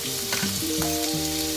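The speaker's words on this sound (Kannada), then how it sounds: "ಪನ್ನೀರ್ ಹಾಕ್ತಾ ಇದ್ದೀನಿ." Paneer pieces sizzle steadily in hot oil and ghee in a pan, a constant close hiss with light music playing over it.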